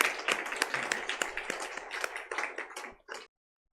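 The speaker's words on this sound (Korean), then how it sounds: "박수로 격려하겠습니다" A church congregation applauds during a Sunday service, a brief burst of many hands clapping at moderate distance that thins out and stops after about three seconds.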